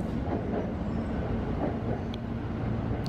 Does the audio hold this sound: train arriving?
yes